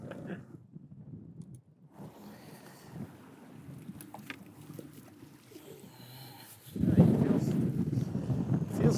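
Steady wind buffets a fishing boat on rough water while out walleye fishing, a low rushing roar under faint talk that swells louder near the end.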